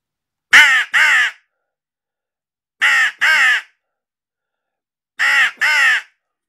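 A human voice imitates hooded crow comeback calls: three pairs of short, harsh caws, each pair a quick double call, spaced evenly with silence between.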